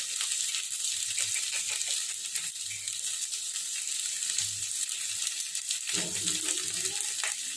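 Chicken frying in a pan and being stirred, a steady close sizzle with intermittent scraping strokes of the stirring.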